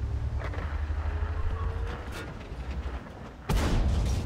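A tank cannon shot in the video game World of Tanks, a sharp loud blast near the end of the clip over a steady low rumble of engine and battle noise.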